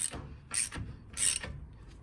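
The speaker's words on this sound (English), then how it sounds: "I'm going to tighten this up with a standard wrench first" A standard wrench tightens a nut on a Mercedes 107 SL brake assembly, giving three quick metallic ratcheting bursts, close and crisp, with short pauses between.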